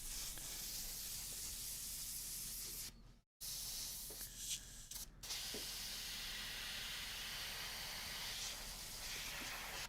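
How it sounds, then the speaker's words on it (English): An airbrush hisses a steady, fine spray of paint onto Star Wars Legion miniatures, with one short silent break and a few faint clicks and handling noises before the hiss resumes. "we're done with the airbrush"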